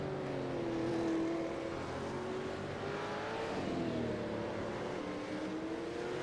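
A Holden Commodore supercar in the iRacing video game runs a hot lap at Long Beach, its engine a steady, close drone that rises and falls slightly in pitch through gear changes, with no voices over it.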